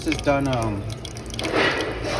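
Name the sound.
water draining from an RO filter faucet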